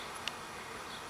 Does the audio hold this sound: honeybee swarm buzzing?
yes